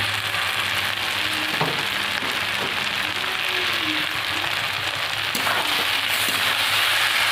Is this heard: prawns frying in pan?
yes